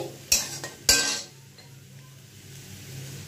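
Spices being stirred in a pan over a low flame for a Bengali-style Gondhoraj chilli chicken: two sharp metallic scrapes of the spoon close by, then a quiet, steady low hiss.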